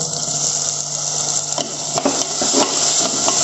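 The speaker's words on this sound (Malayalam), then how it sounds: "ഇത് നന്നായിട്ട് വഴറ്റുക" Chopped tomatoes frying with onions and ginger in a pan for a Malabar-style crab curry, giving a steady close sizzle with scattered stirring scrapes toward the end, no voices.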